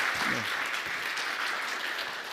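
Congregation applauding in a church during a Sunday service diploma presentation, a steady, dense wash of many hands clapping throughout, with a brief voice at the start.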